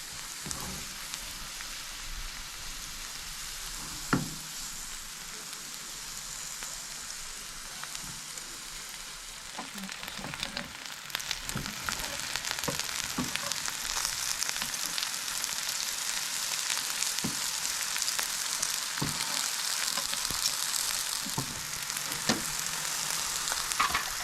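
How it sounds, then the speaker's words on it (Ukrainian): Button mushrooms sizzle and crackle in a hot oiled pan, a steady frying hiss with occasional sharper pops and stirring scrapes, growing slightly louder toward the end. "Обсмажуємо шампіньйони на розігрітій сковородці, додали сюди трішечки олії"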